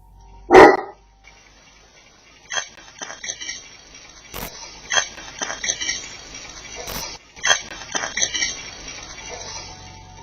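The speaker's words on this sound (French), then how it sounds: "Après que son chien se mette à aboyer, une voix rauque se fait entendre." A dog gives one loud, sharp bark close by, followed by scattered clinks and knocks and quieter rustling over the next several seconds.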